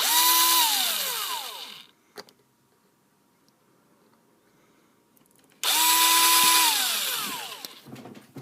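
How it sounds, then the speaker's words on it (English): A power drill bores through the plastic parts of a Microsoft LifeCam HD-3000 webcam in two loud bursts, each whining up to speed and then winding down, with a quiet gap and a few small clicks between them. "So what I ended up doing in the end was actually drilling through those bits, so it all comes off a lot easier now."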